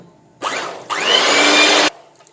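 Electric mixer beating sugar, eggs, butter and lemon and orange zest, a loud close whirring that starts briefly, pauses, then runs steadily for about a second with rising pitch before cutting off.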